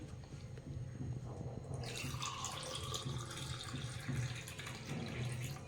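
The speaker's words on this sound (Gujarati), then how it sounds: "બંને ગ્લાસ ભરી દઈએ શરબતમાં" Winter sharbat pours into glasses with a soft, steady liquid trickle that thickens into a fuller splashing stream partway through, faint and close, with no talking.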